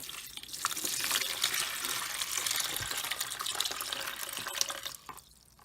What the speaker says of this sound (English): I'm just going to pour in some water, making sure that it covers the seams